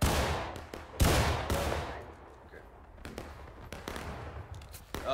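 Scattered musket shots in War of Rights, a Civil War game, with one loud close crack followed by sharper and more distant reports at uneven intervals as skirmishers fire independently.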